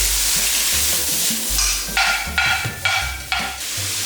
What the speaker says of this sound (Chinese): 稍微炒一下，把鹿茸菇倒进去